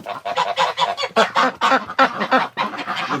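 A flock of geese honks close by in a rapid, irregular chorus of loud nasal calls, crowding the short stretch with little pause and no talking.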